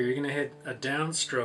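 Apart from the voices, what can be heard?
No everyday noises stand out.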